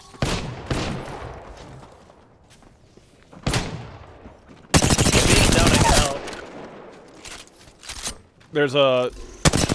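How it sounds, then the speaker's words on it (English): Gunfire in the Apex Legends battle royale game, a dense sustained burst of rapid shots lasting over a second amid scattered sharper single reports and thuds, with a voice speaking briefly over the action. "She's shooting at me."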